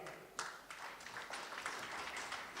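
A faint, distant crowd applauds steadily at an inclusive education gathering. The clapping forms a dense, even wash with a sharper burst near the start.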